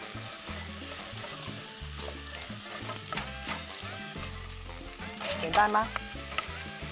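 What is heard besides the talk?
stir-frying food in a wok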